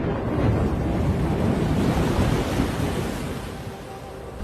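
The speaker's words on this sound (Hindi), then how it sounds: "बादल भी गिराए हैं और हवा भी तेज चल रही है।" Strong wind in stormy winter weather under dark clouds, a loud, continuous blustery roar that buffets the microphone and eases slightly toward the end, with no one speaking.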